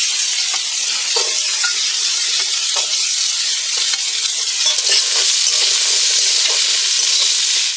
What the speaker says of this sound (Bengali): আমি আলুটাকে ভেজে নিচ্ছি।